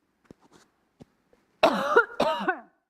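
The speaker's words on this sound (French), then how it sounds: "Tousser dans le micro, c'est pas super." A woman coughs twice into a microphone during a sermon, sharp close bursts after a few faint breaths and small noises.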